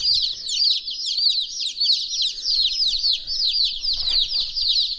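Baby chicks in a brooder keep up a dense, loud chorus of high, shrill peeps, many overlapping calls heard close with no pause and no talking.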